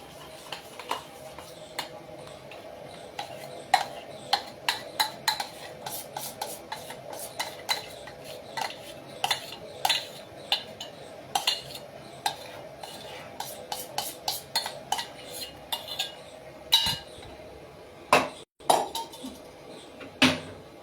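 Batter for idli-style dhokla is spread with a spoon across a greased steel plate, giving a run of close, light scraping and tapping clicks in an irregular rhythm with no voices.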